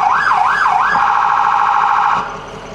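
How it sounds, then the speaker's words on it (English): A 2004 Ford E450 emergency vehicle's loud electronic siren wails in rapid rising-and-falling yelp sweeps, then switches to a steady high phaser tone before cutting down to a quieter hum. "So if we hit the siren, yelp, phaser"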